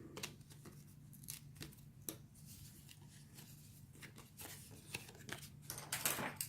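Scissors snip through cardstock for a handmade 3D Mod Podge card, a series of close, crisp cuts with faint paper rustle between them and no talking.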